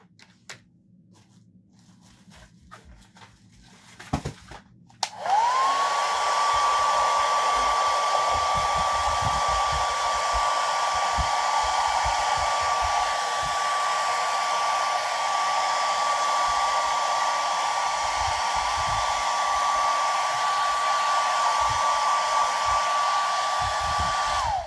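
A hair dryer is switched on after a few soft handling clicks and thumps, then blows loud and steady at close range with a constant whine while it dries a junk journal page, with occasional faint rustling underneath.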